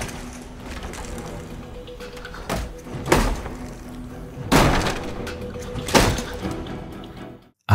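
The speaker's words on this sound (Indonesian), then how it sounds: "Lalu tiba-tiba pintu kamar digedor dengan sangat kuat." A locked door to a room at a South Korean school is pounded hard, giving several heavy, irregular bangs spaced a second or two apart over a low background hum.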